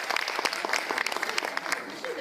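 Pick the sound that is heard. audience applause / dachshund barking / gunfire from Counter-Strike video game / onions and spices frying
audience applause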